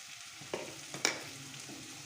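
Egg roast masala sizzling softly in a pan as coriander powder is stirred in, a low steady fry with a few sharp scraping clicks of a spoon, no voices.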